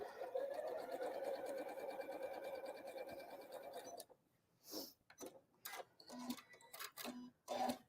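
A sewing machine stitches quilt block pieces with a quarter-inch seam, running in a steady close whir for about four seconds before stopping, followed by quieter clicks and handling noises.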